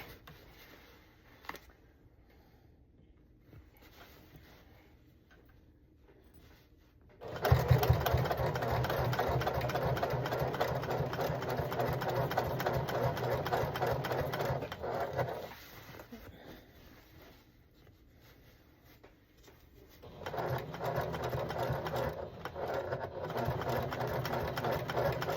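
Sewing machine grinding through the zipper on a Carhartt hunting coat: a quiet start, then a loud steady motor hum that stops briefly and resumes, close to the microphone.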